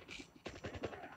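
Automatic gunfire from the mobile shooter game Call of Duty Mobile: quiet, rapid bursts of shots that crackle in quick succession across a short stretch.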